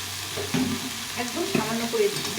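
Bete shak greens fry in a pan with a close, steady sizzle, punctuated by several scraping stirs of a spatula against the pan.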